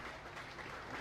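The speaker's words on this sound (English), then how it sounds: "Let's give these young people a good round of applause." Audience applause at a 4-H beef show, a steady even wash of clapping from a crowd, moderately distant and uniform for the whole short stretch, with no pauses or single claps standing out.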